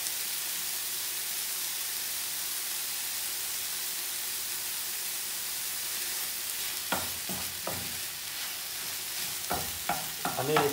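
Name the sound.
minced meat frying and being stirred in a pan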